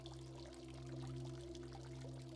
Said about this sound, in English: focusing again on the flowing sound of water